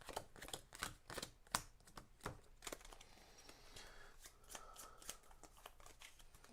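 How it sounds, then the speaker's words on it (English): Playing cards being drop shuffled at a board game table, a quick run of sharp riffling clicks that bunch up early and then thin out into softer, scattered flicks, close and fairly quiet. "Do a little drop shuffle here"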